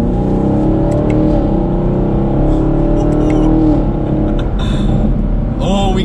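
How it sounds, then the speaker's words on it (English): A 2021 Chevrolet Camaro SS 1LE's V8 exhaust, set to track mode, roars and revs continuously, rising and falling in pitch, with a few crackles and a voice talking over it. "we even have this exhaust, which we need to go ahead and put it into track mode"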